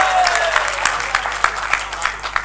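Sparse, uneven clapping from a thin audience at a Hindi poetry recital, with scattered individual claps close by over a steady low hum and no voices.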